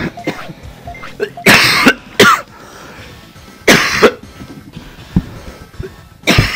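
During a Spanish-language play session of Digimon World on PS1, a person coughs in several loud, harsh bursts spread through the clip, with quieter pauses between them and no talking.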